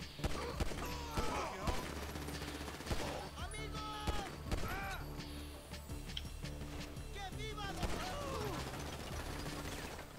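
A video game gunfight in a vehicle-based crime game, with rapid bursts of gunfire, metallic mechanical clatter and shell-like pings layered densely throughout, a voice talking intermittently over the action.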